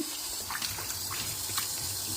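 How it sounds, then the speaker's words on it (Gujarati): Water sloshing and pouring out of a vessel while something is washed, a steady, fairly faint splashing stream with small bursts, no talk over it. "એક બાર પાણી મેં નિકાલ દિયા."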